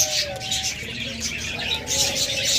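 Cockatiels and lovebirds in a bird shop chirp and tweet in a busy, continuous chatter of high calls, with some cooing birds mixed in close by.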